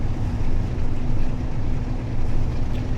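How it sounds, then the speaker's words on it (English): A British Rail BLU2 Class 47/4 diesel locomotive hauling a long mail train in a train simulator game, a loud steady low engine drone with a faint constant tone, no voices over it. "Yeah, that's a long mail train for this line."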